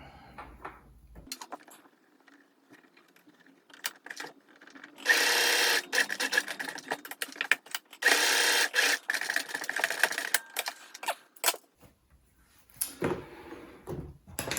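Sewing machine stitching fabric for a homemade face mask, with close, loud bursts of rapid whirring separated by pauses and quiet handling noises.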